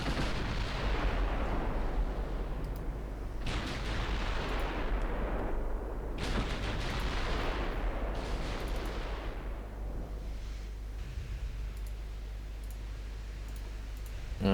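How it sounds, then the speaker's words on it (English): Warship gun batteries fire broadsides in Ultimate Admiral Dreadnoughts: several heavy booming salvos crash out over a constant low rumble, with no voices. "We're gonna get all 10 guns on the broadside anyway."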